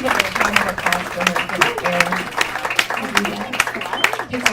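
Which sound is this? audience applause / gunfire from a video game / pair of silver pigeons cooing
audience applause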